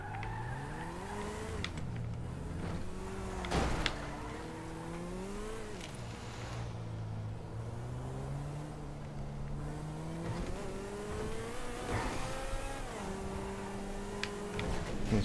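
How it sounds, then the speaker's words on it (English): A Koenigsegg Agera R revs and races through the streets of Grand Theft Auto V, the engine note rising and falling through gear changes, with brief tire squeals, loud and steady throughout. "let's go see what San Andreas is about in this new Koenigsegg Agera R"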